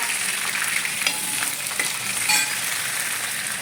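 Onion frying with a steady sizzle in hot coconut oil with mustard seeds and curry leaves, a continuous crackling hiss close up with a few small pops and stirs, no talk.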